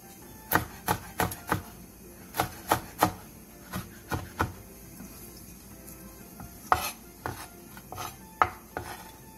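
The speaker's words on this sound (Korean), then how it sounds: "청양고추에 길게 십자 모양으로 칼집을 낸 뒤 쫑쫑 썰어주세요." A knife chops Cheongyang green chili peppers on a board, a series of sharp close taps in quick bursts of three or four, pausing between runs.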